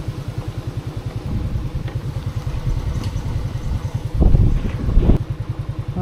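A motorcycle engine runs steadily on a rough trail, its low rapid pulsing loud and close throughout, with throttle surges and clatter near the end as it works over uneven ground.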